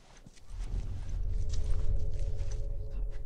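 A horse walking inside a building in The Last of Us, its hooves clopping steadily and fairly close over a low rumbling background, with no talk.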